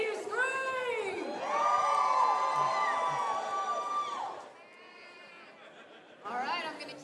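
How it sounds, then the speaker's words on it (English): A roller derby crowd at a Fountain City Roller Derby bout screams and cheers loudly for the Bumble Bashers, a sustained high-pitched roar that fades, then surges again briefly at the end. "If you are here for the Bashers, I want to hear you scream."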